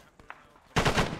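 Machine gun fire in ArmA 3, a brief loud burst of rapid shots that erupts suddenly after a few faint clicks and taps.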